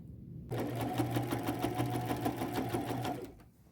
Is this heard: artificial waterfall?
no